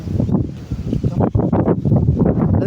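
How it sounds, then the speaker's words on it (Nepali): Gusty wind blows hard at Gorkha Durbar on a hilltop, rushing and buffeting close against the microphone in uneven surges. "हावा चलिसक्यो यार"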